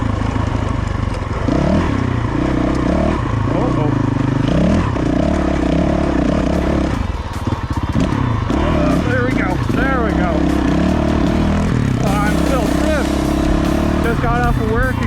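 A dirt bike rides a trail in Skull Valley, its engine loud and close as it revs up and down through repeated throttle changes, with clattering and scraping from the ground.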